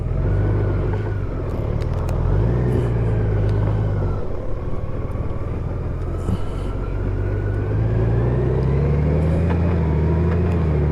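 A Honda Goldwing motorcycle riding along a road produces a steady loud engine drone with wind rumble and slight shifts in pitch as speed changes, continuous and close.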